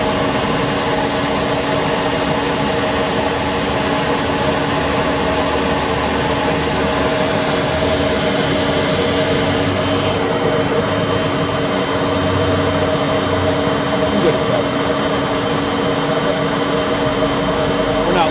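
Citizen L20 CNC Swiss lathe spindle running steadily at high RPM, a loud, continuous machine whine with a constant mechanical hum and a slight shift in pitch partway through, no speech.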